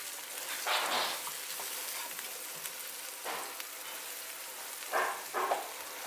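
A breakfast mixture with cheese and parsley stirred in a hot pan, giving a soft continuous sizzle broken by a few louder scraping bursts of the utensil, with no talk.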